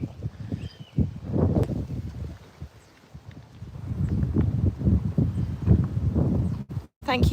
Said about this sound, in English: Yes, they are Friesian horses.